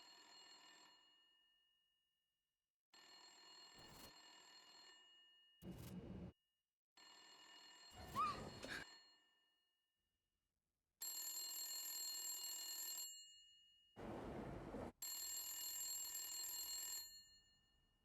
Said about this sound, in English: Somebody answer that damn phone.